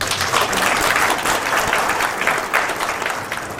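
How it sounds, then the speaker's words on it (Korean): Applause welcoming a lawmaker to the stage at a book concert held in the National Assembly, a loud, dense crowd clapping that runs steadily and eases slightly toward the end, with no speech. "박수로 환영합니다."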